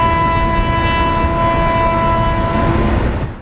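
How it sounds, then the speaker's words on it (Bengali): A train passes close by on the railway with a loud, sustained horn blast over a heavy, rumbling roar that holds steady, then cuts off abruptly at the end. "আর এই ট্রেনটা যাচ্ছে ঝিকঝিক ঝিকঝিক ঝিকঝিক ঝিকঝিক করে"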